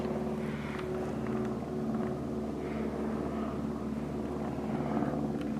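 A plane passes high overhead in an open garden setting, its steady, continuous engine drone holding at a fairly even level for the whole stretch, with no talk over it.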